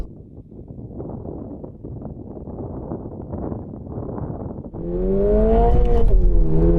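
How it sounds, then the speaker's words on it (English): A Toyota 86 launches at a drag race start. Wind buffets the microphone, then the engine note surges and climbs sharply as the wheels spin. "Bit of wheel spin there."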